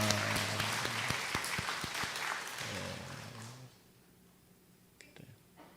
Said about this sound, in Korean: 모두 환영하는 박수 하겠습니다